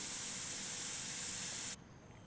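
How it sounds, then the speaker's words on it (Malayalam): A pressure cooker whistling while drumstick leaves cook, a loud, steady high steam hiss that holds for almost two seconds and then cuts off abruptly, leaving faint background noise. "അപ്പോൾ ഇത് നാലാമത്തെ വിസിലാണ് കേട്ടോ"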